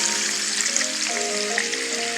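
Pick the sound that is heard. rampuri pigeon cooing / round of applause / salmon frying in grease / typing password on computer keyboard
salmon frying in grease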